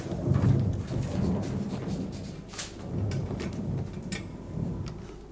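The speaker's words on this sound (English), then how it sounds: "The storm is directly above us." Deep rumbling thunder from a storm overhead in a 1968 Frankenstein drama, rolling in long continuous swells with rain and a few sharper cracks over it.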